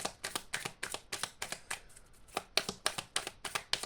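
A deck of cards for a card reading is shuffled close up, giving rapid, rhythmic riffling bursts about twice a second with a brief pause midway.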